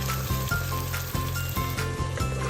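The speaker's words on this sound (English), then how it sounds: "Now just add the tomato puree." Tomato puree hits a hot pan for spaghetti sauce and sizzles steadily, a loud close frying hiss running throughout with a few pulsing bursts from stirring.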